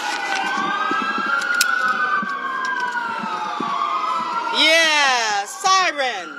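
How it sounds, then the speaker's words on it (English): Emergency vehicle sirens wail and sweep up and down at a street rally against immigration raids in Los Angeles, a long rising-falling wail then rapid yelping cycles, with a crowd and voices around. "sirens."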